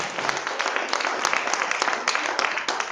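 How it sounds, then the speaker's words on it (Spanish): A church congregation stands and claps together in praise, a dense, steady burst of applause that fills the room without a break. "Póngase de pie y denle una ofrenda de palmas al Señor."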